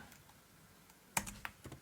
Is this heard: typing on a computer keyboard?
yes